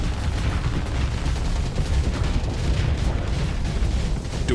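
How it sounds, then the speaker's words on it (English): Ship weapons firing all at once in the space combat game Starsector, a dense barrage of rumbling booms and blasts blending into a continuous loud roar. "I am like all guns firing"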